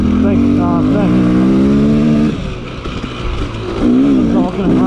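A dirt bike engine revs on a tight trail in Croom, Florida, its pitch climbing and then settling, loud and close under a rider's talking.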